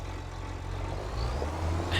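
A tractor engine in Farming Simulator 25 runs with a steady low drone that builds slightly toward the end, heard alone and fairly near.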